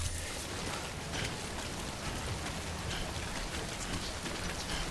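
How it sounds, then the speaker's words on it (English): Continuous heavy rainfall in the video game Death Stranding, a dense even hiss that stays constant throughout with no voices. "Guess we'll have to go through the rain regardless."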